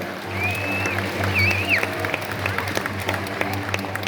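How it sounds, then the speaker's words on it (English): Audience clapping with scattered cheers and a whistle at a wildlife show in the Australia Zoo Crocoseum, a steady hum running underneath. "Let's give them one last round of applause, eh?"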